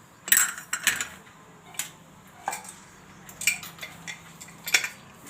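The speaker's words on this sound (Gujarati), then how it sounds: "હવે આપણે કુકરને ઢાંકી દઈશું." Someone fits and closes the metal lid of a pressure cooker holding a green val bean curry. The lid gives a series of sharp, close metallic clanks and clicks at uneven intervals, with no voices.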